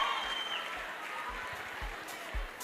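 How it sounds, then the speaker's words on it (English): Audience applause at a youth empowerment week event in the Vaal: a dense, steady wash of clapping from a crowd that carries on throughout, with a few louder low thumps mixed in. "One more time, a round of applause for Prima Doti by Prince Mashamba."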